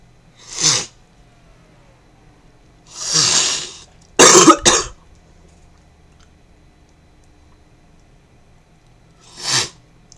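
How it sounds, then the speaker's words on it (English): Several short, forceful bursts of nose-blowing separated by quiet pauses, one louder double blast in the middle, close up. "I had to blow my nose for a second"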